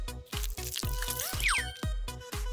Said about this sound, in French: Et on rince.